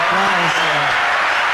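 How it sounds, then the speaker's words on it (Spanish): A crowd bursts into applause for a birthday, a dense, loud wash of clapping that starts right away and keeps going, with a voice briefly heard over it at the start. "Un aplauso."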